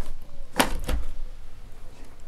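A sliding window glides and shuts with two quick knocks close together, then quiet room noise follows.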